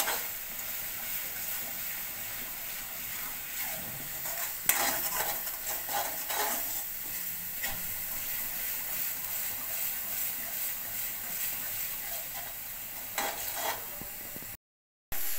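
Masala paste with chili powder and coriander powder frying in a pan for crab curry, a soft steady sizzle with occasional spoon scrapes and stirring clinks, fairly quiet throughout.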